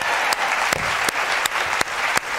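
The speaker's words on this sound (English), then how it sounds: "Let's have a round of applause for your parents." Steady applause from a studio audience on a 1999 television talk show, a dense wash of clapping broken by periodic louder hits, without talk.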